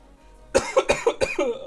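A quick burst of five or six dry coughs from a sick man in rapid succession, close and fairly loud, with near silence just before.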